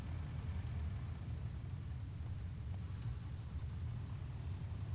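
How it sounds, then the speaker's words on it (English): A truck engine idles in Euro Truck Simulator 2, a steady low rumble holding evenly throughout, fairly quiet with no voices. "Let's get this truck turned on."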